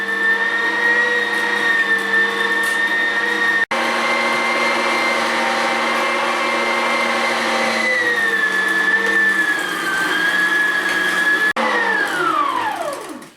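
Electric meat grinder running steadily while grinding deer meat for low-fat seasoned deer burger, a loud continuous motor whine with one brief dropout, then the pitch sags under load and winds down at the end.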